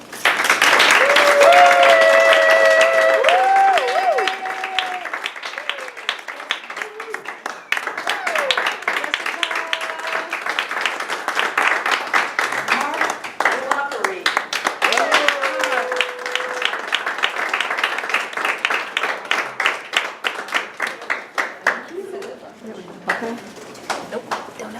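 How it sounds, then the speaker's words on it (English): A banquet audience applauds and cheers, a broad wash of clapping that swells early with a few whoops, then thins into scattered, uneven claps while a voice talks over it. "Show them your appreciation with your applause and cheers."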